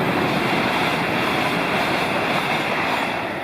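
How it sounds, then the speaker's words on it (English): A GWR Class 802 intercity train rushes past at close range, a loud, steady roar of wheels and traction noise that holds constant throughout with no voices. "That was 802-015 on a service to Paddington."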